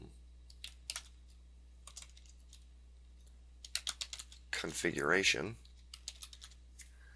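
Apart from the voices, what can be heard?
typing a name on a computer keyboard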